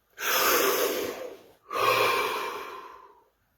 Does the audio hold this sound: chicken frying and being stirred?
no